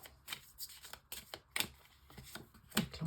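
Tarot cards are shuffled and laid down onto a spread, with brisk papery riffles and soft slaps in quick irregular bursts, close and fairly quiet.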